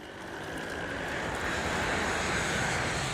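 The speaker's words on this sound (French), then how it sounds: "Le vol 401 d'Eastern Airlines survole bruyamment leur position." A loud, steady aircraft engine roar builds and holds as Eastern Airlines Flight 401 passes low overhead above the Everglades, with no voices.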